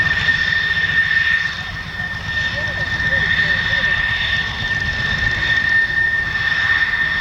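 A Lockheed L-749 Constellation airliner drones past on a photo pass, its engines giving a low, continuous rumble with a steady high tone above, under a persistent background hum.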